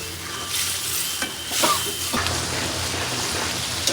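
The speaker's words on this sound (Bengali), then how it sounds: "কাঁচামরিচ আর টমেটো কষানো হোক" Tomatoes and green chilies frying with spices in a pan for an hilsa fish curry, a steady close sizzle with occasional stirring scrapes.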